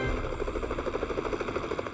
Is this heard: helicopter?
yes